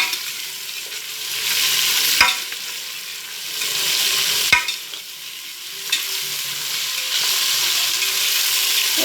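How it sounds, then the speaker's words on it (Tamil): Kuska rice stirred in a hot pot, a loud continuous sizzle swelling and easing as the spoon turns it, with two sharp metallic clacks against the pot and a softer one later. "அப்புறம் இது கொண்டு போய் எல்லாம் நல்லா கிளக்கணும்"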